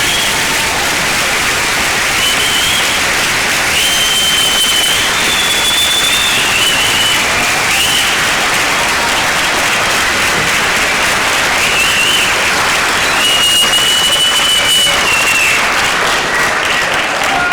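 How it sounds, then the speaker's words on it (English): Sustained applause from a large audience at a middle school eighth grade moving up and awards ceremony, loud and continuous, with a few shrill whistles rising above the clapping. "please join me in a round of applause for all of our amazing students."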